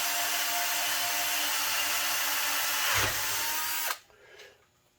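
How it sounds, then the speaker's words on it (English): A power drill whines loudly and steadily while drilling through a metal LS engine valve cover, then cuts off abruptly near the end, leaving a brief quieter mechanical tail. "I am comfortable with drilling all the way through"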